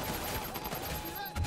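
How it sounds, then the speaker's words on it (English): AK rifle fire in the Watch Dogs 2 video game, a brief, dense stretch of loud, rapid shots with a voice faintly present beneath. "Never used the freaking AK, might as well use it once."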